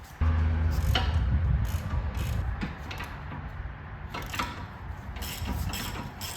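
A ratchet works on 21mm bolts during a Tesla Model Y/3 suspension install, with a series of clicking pawl sounds and metallic mechanism noise up close, no speech.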